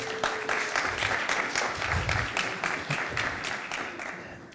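A tech talk audience claps for the speaker being introduced, a sustained patter of many hands that gradually thins out, with faint voices underneath.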